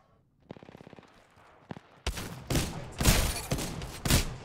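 Gunfire in the Apex Legends shooter: a quiet start, then a fast rattling burst, a lone shot, and heavy, loud rapid automatic fire with booming bursts continuing to the end.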